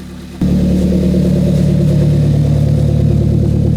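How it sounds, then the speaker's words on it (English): A Ford Fiesta ST, mid-rebuild, cranks and fires after a short quiet moment, then settles into a steady, loud, close idle with a constant low rumble and no talk. "I think you have to turn the car on and off first"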